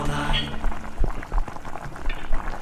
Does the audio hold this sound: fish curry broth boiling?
yes